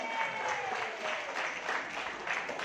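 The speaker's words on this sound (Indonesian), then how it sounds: "Aplaus buat Pak Imam ya" Audience applause at a marketing plan presentation, a steady burst of clapping from a modest crowd heard at a moderate distance.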